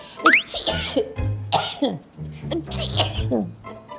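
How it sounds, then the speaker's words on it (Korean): A few sharp coughs ring out close by amid a person speaking, with throat-clearing sounds between. "아유 기침이 귀엽게 하네."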